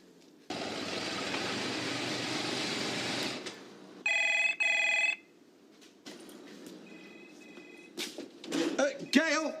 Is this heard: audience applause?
no